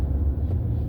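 A Maserati with a noisy exhaust rumbles past on a mountain road, a loud deep low engine drone filling the brief moment, with no talking.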